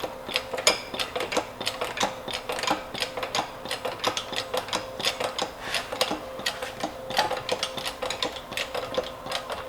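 A jack is pumped by hand to lift a torque converter, giving repeated rhythmic metallic clicks and ratcheting strokes at a steady pace, close and distinct.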